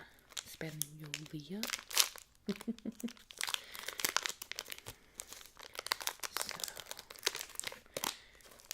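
Crinkly plastic wrapping on a Spanish milk chocolate snack with a soft nougat and caramel center is pulled open in bursts of crackling and tearing, close by, mixed with a voice talking.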